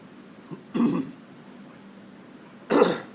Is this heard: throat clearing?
yes